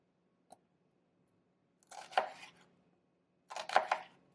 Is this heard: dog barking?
no